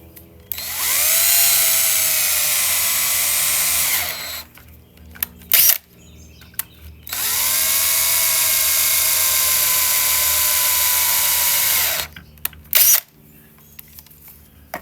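A power drill bores into walnut wood in two long, steady, high-pitched whining runs of about four and six seconds each, with short clicks and a quiet pause between them.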